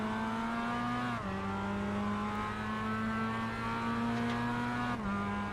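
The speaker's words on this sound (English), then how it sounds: "You can hear how much that Mullins is just staying in the same gear." Mazda MX-5 Cup race car in iRacing holding a single gear through a section, its engine droning at a steady pitch with a brief dip and recovery, loud and continuous with no talk.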